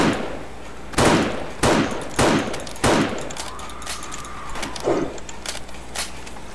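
Sniper rifle fire in the zombie survival game 7 Days to Die during an endless horde night, with several loud, sharp gunshots spaced roughly a second apart and fainter clanks and shuffling noises between them.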